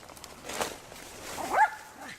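A dog outdoors on rural property gives a brief, high yelping bark near the end, mid-distance and fairly soft, heard under a voice.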